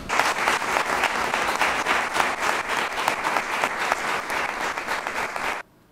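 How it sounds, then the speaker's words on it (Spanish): Warm applause fills a municipal council chamber in Tarifa for a departing councillor, steady, dense clapping from many hands that cuts off abruptly near the end. "me gustaría dedicarle un aplauso a Sebastián Galindo."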